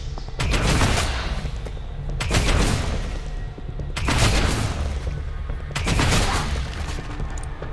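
Gunfire from the video game Warhammer 40K Deathwatch: four loud, sustained bursts of rapid automatic fire roughly two seconds apart, each dense and booming with short lulls between.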